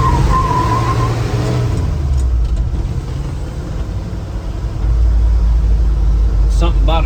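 A 1976 Ford F-150 with a 360 engine and 4-speed growls loudly nearby, idling with a deep rumble that swells into a heavier rev partway through, while people talk over it.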